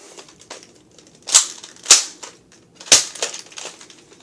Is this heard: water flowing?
no